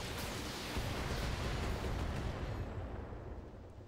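Mastiff mech in BattleTech unloading all its weapons at once, a dense, loud roar of overlapping blasts and booms that rumbles continuously, then thins out toward the end.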